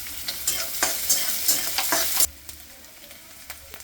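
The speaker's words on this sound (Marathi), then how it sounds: "कांदे 1 मिनिटभर परतून घेऊ" Onions and curry leaves with cumin frying in a pan, loud crackling sizzle with stirring scrapes that drops abruptly to a quieter hiss after about two seconds, with light clinks continuing.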